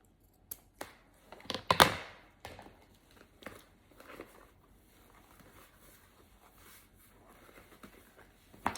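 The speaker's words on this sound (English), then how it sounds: "Go ahead and cut this tail." Scissors snipping the tail off a piece of Christmas craft decor, a few crisp close cuts and crinkles early on, then quieter handling rustles.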